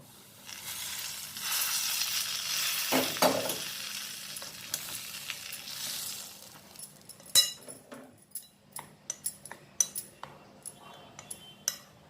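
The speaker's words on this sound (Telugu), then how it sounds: "ఇప్పుడు ఈ పిండిలో కాచి పెట్టుకున్న ఆయిల్ వేసుకోవాలి" Heated oil hisses and crackles as it is poured into gram flour batter for okra bajji, fading into a run of sharp clinks and scraping taps of a spoon against the bowl.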